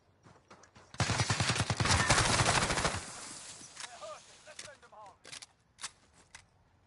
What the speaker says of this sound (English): On top of hearing the gunfight, technically, and then the footsteps running up to him